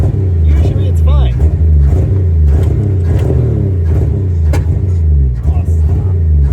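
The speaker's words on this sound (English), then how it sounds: "sometimes the starter doesn't want to crank from the wire here" An old car with a carburetor problem idles and revs roughly near at hand, its uneven engine rumble steady throughout while a person talks over it.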